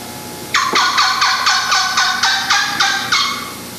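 A voice imitates a young turkey hen's yelp with a fast, high-pitched series of about ten evenly spaced, loud, close yelps that fade slightly at the end.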